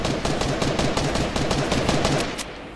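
Rapid bursts of automatic gunfire crack loudly and continuously in a custom match of an online shooter game, a dense repeating rattle that fades out near the end.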